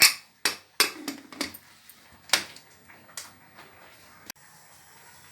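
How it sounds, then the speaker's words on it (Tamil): A pressure cooker lid being closed, with several sharp metallic clanks and knocks spaced over a few seconds, the first ones loudest, then a few quieter taps and scrapes. "குக்கரை க்ளோஸ் பண்ணிக்கலாம்."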